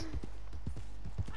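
A horse's hooves clip-clop in a video game, about six even, close steps in a quick walking rhythm over a low steady background.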